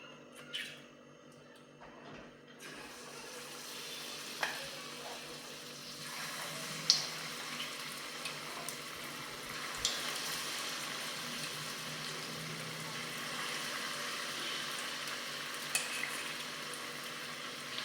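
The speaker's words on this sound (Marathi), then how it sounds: "इथे तेल तापलेलं आहे आता आपण भजी तळ तळून घेऊयात" Onion and potato bhaji deep fry in hot oil, a constant soft bubbling sizzle with small pops and clicks scattered over it, no voices.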